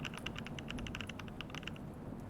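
Rapid keystrokes on a cheap keyboard with Mech Vibes software adding mechanical switch sounds, a steady close clatter of quick taps that runs throughout with no talking.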